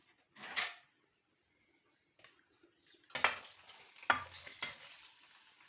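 Chicken pieces dropped into hot oil in a pot for biryani, giving short bursts of sizzling and clattering with quiet gaps between, close and moderately loud.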